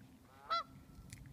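A single honking call from waterfowl on a lake, short and moderately near, stands out over a quiet outdoor background while a dog swims close by.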